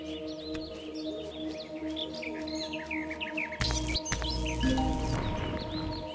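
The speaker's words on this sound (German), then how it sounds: "Ich höre Eulen." Birds calling in an alien outdoor setting in the video game Empyrion Galactic Survival, repeated short chirping calls over a steady low hum, joined near the end by a louder burst of rustling noise.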